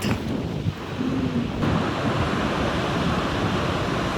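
Strong wind buffets the microphone on a Bali beach near Uluwatu, with a continuous broad roar of surf and waves beneath and no talking.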